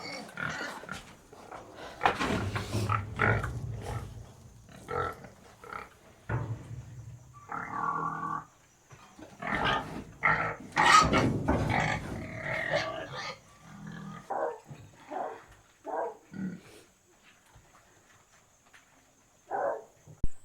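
Pasture pigs grunt and snort in irregular bursts close by near a trailer ramp, clustered into short busy sequences separated by quieter pauses.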